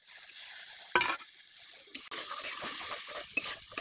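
Spiced peas (motor chola) with coriander leaves and a splash of water are stirred in a pan, giving a soft, steady sizzle broken by a few sharp scrapes and clinks of the spatula, no talk.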